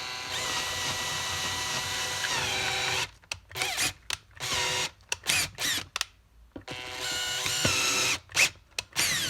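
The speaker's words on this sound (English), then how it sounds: "you just wanna nice and easy drill out your hole" A power drill whirs steadily on a low setting while drilling out a hole for a Heli-Coil thread insert, then runs in short stop-start bursts with brief silences between, close and fairly loud.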